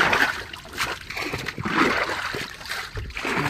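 Water is bailed out of a fishing boat in repeated splashing, sloshing scoops, close and continuous with uneven rhythm and no talking.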